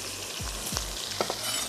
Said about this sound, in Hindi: खुशबू सी आनी शुरू हो जाए तो मैंने इसमें ऐड कर देना है प्याज और टमाटर